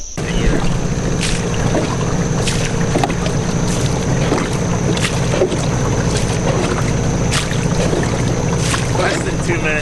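A boat under way on a Kentucky waterway, a steady loud motor drone with water rush and wind buffeting the microphone, continuous and close, with faint voices underneath.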